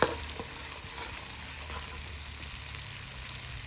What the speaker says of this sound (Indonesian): Dan saya mau masukkan sekalian ini serai, daun salam dan lengkuasnya jadi satu, goreng sampai dia harum